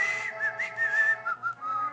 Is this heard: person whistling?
yes